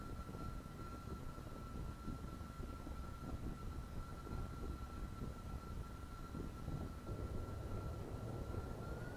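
A thermal turbojet spacecraft flies through the atmosphere of Eve in a space flight video game, giving a steady, loud jet roar with a constant high whine over the whole stretch, with no voices.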